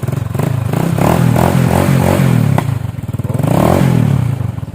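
A motorcycle with a new starter, battery and spark plug cranks and fires, its engine revving up in rhythmic pulses, dropping, then revving again, loud and close with some mechanical clatter.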